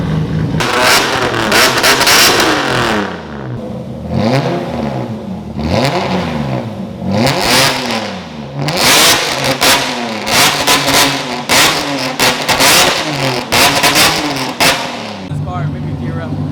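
An exotic car's engine revs hard and loud up close, several rising and falling surges of throttle with raspy exhaust bursts, while people talk over it.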